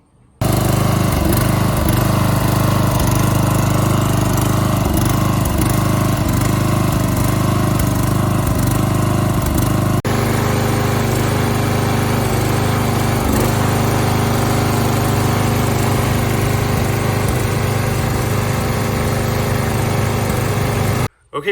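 A 1980s Deutz Allis lawn tractor's small engine runs continuously, a loud, close, steady drone with a rough, uneven beat throughout, and the pitch and tone shift about halfway through.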